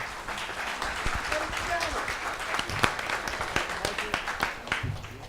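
Audience applause at the Start Up St. Bernard 2018 pitch competition for a startup contestant, a dense, steady patter of many hands clapping that runs for the whole clip, with a few sharper, louder claps standing out near the middle and end.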